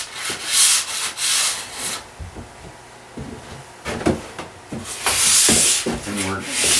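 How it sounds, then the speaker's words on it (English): A metal file strokes along the edge of an alpine ski, scraping off a burr in repeated rasping passes that come in bursts with short pauses between them, loud and close. "take our file and go down here real nice and smooth and just catch the edge"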